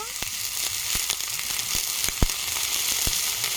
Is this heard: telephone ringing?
no